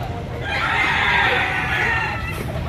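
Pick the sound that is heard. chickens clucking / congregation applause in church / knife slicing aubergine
chickens clucking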